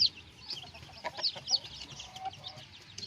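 Newly hatched purebred pamaiq straightcomb chicks give scattered, thin, high-pitched peeps, soft and close, over a quiet background.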